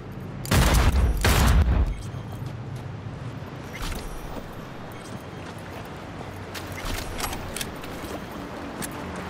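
Jackie's gun fires in Cyberpunk 2077, a loud rapid burst of gunshots near the start, followed by scattered quieter shots and game noise.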